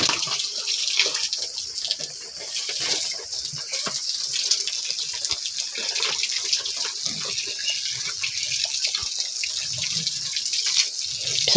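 Water running steadily from a tap while someone is being bathed, a continuous close splashing hiss with small irregular drips and gushes, no talking heard.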